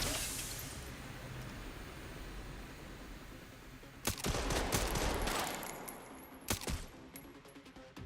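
Gunfire in Resident Evil Requiem crackles out in sharp bursts of rapid shots, quiet at first and then a sudden cluster of loud reports midway with a few more trailing near the end.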